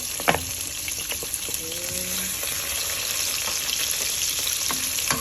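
Onion and garlic sizzle in a hot pan with a steady, bright frying hiss. A few soft stirring clinks and faint background noises sit underneath.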